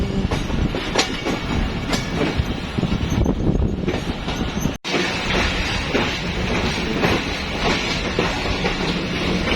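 Passenger train rolling steadily on rails on a journey to Hyderabad, a continuous loud rumble with rhythmic clickety-clack of wheels over joints, briefly cut by a sharp gap midway.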